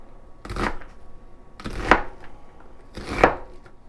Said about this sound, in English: We're going to start by dicing a large onion.